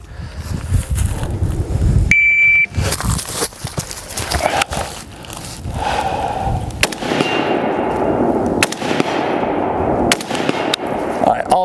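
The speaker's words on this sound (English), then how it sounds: "All right, all three shots a hit." Three rifle shots fired from a prone position behind a bipod on a timed shooting drill, sharp loud cracks spaced a few seconds apart, each followed by a ringing decay, with background clatter between them.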